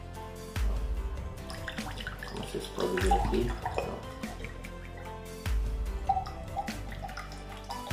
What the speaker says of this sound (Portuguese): Vou tirar a água dele aqui, ó.